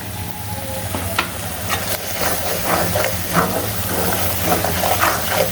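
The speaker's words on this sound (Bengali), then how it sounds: "মশলা কিন্তু বেশ ভালোভাবে কষানো হয়ে গিয়েছে।" Spice masala for chicken biryani, seasoned with salt, fries in a pan with a loud, steady sizzle and hiss close by, broken by the scrapes of stirring and with no voices.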